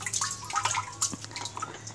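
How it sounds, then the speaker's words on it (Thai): Water splashes and drips around a small child in a bath at home, a busy close patter of droplets and small splashes with slight gurgling. "อย่าสาดน้ำใส่พ่อมันเปียกพ่อเปียกเลยเนี่ย"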